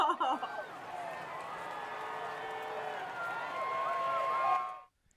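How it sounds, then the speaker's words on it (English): A crowd cheer sound effect plays as a broad, sustained roar of cheering and whoops, steady and fairly loud, then cuts off abruptly near the end. "I want the crowd cheer."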